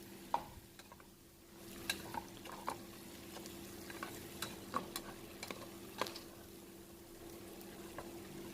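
Prawn and green gram biryani mixture with salt is stirred in a pot, giving soft scraping taps and clacks at an irregular rhythm over a faint low hum, quiet and close.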